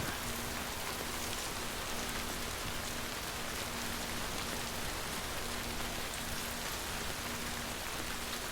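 Rain falls steadily in the video game Death Stranding as a constant, even hiss with faint patter and a low hum underneath. The sound is soft and unbroken, with no voices.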